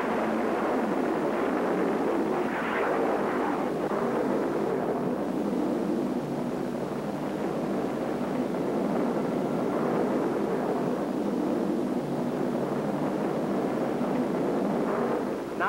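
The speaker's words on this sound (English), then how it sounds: "Missile away." A missile launching after a countdown, heard as a loud, continuous broadband roar that holds steady for the whole stretch with no voices over it.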